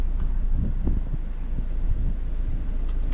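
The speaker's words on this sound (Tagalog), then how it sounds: "sobrang lakas ng hangin" Strong wind buffets the microphone on a fishing boat at sea in the Caribbean, a loud rumbling roar with gusty low thumps throughout, no clear voices.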